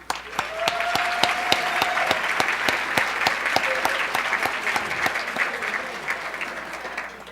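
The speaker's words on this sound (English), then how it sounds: "join me in a round of applause" An awards-ceremony audience applauds steadily, a dense wash of clapping with a few sharp, distinct claps standing out near the front, no voices over it.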